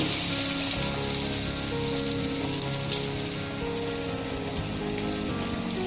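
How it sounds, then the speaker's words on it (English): Batter-coated vada frying in hot oil, a dense, continuous crackling sizzle with rain-like patter, steady at moderate volume and heard alone without talk. "now we will leave it into this oil"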